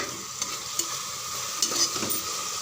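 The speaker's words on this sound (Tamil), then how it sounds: "தக்காளி நல்லா வதங்கியிருக்கு பாருங்கள்" Tomatoes sautéing in a pan for tomato rice, a continuous hissing sizzle with a few light spoon scrapes and clinks, close and steady without talk.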